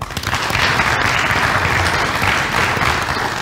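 An audience claps steadily for about three and a half seconds after a church teaching programme, the applause dense, loud and continuous with no voices over it.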